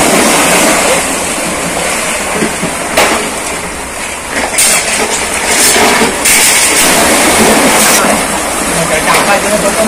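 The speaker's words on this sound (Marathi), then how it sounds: "किल्ल्याची सौंदर्यता आणि समुद्राची गाज मात्र पुन्हा ऐका." Roar of sea waves breaking against Padmadurg, an island sea fort, a continuous loud broadband wash with surges swelling and fading, heard alone with no talk.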